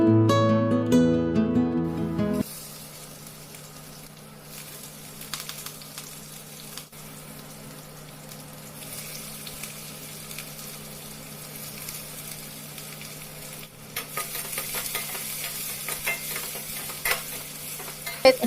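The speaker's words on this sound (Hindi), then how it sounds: "फिर इसमें मेथी और हींग का तड़का लगाया" Fenugreek seeds and asafoetida crackle and sizzle steadily in hot mustard oil in a pan, a hot frying hiss holding through the whole stretch and swelling louder near the end.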